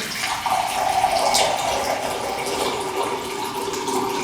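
250 milliliters of filtered water pours steadily into a container, a close, gushing splash that holds even for a few seconds with no speech.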